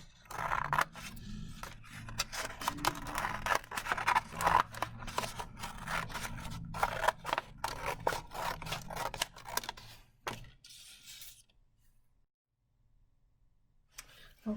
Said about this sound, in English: we will go ahead and use the scissors, las tijeras, and cut right down the middle here.